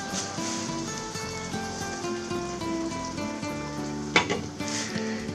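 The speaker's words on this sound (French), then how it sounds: "on laisse mijoter une petite demi-heure" Filet mignon in clementine sauce simmers in a covered pan with a steady, soft sizzling bubble throughout, broken once by a brief metallic clink.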